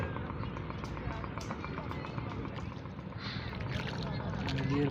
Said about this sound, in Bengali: নদীর পাল ধরে নৌকা চলে যাচ্ছে, পালে বাতাস লাগছে।